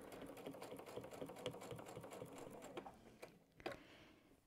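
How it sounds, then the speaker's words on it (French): A sewing machine stitches along a quilt seam with a fast, even mechanical chatter, close and fairly quiet, slowing to a halt near the end with a few final clicks. "Je vais coudre sur dans la couture."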